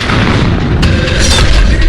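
A blast boom from an explosion, a loud broadband rumble with a sharper burst partway through, heard alone with no talk.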